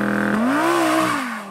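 An Audi R8 Spyder engine bogging during a launch, a loud close drone that sags and then slowly climbs in pitch without revving freely, and tails off near the end.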